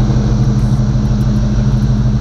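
A stock Chevy small-block V8 fitted with a cam idles steadily and up close in a box Chevy, a continuous loping rumble with no talk over it.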